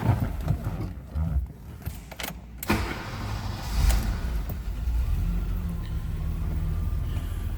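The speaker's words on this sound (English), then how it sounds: "Let's go ahead and start this up so you can hear it run." A 1984 BMW 325e engine cranks over and catches, then settles into a steady, close idle with a low, continuous rumble.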